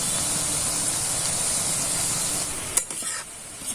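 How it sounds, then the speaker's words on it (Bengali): Khaja pastry pieces deep-frying in oil over low heat give a steady, close, broadband sizzle and hiss. Near the end a few soft knocks and stirring clatters break through as the sizzle thins. "এবার আমি একে একে এগুলোকে ভেজে নেব"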